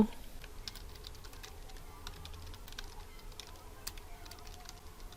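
Keys tap on a computer keyboard while text is entered in MS Word, a steady run of light clicks, faint and close over a low background hum, with no speech.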